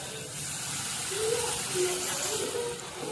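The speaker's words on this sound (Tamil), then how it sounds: "தண்ணி கொஞ்சமாக விட்டு கொதிக்கிட்டோம்." Water trickles and splashes into a cooking pot on a home stove, a soft, short pour that is faint and fairly close.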